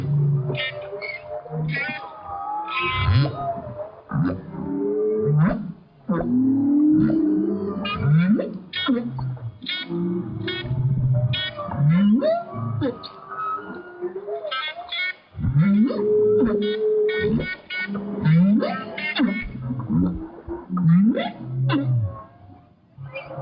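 Whale calls recorded underwater through hydrophone headphones, layered with musical accompaniment: rising and falling moans, whoops and wails alongside bright tonal notes and clicks, continuous and loud throughout.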